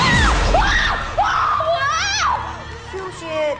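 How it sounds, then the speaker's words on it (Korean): A woman screams in high, rising and falling shrieks in three distinct stages, loud and close, with a lively crowd of voices and some splashing mixed in. "비명은 3단이네요"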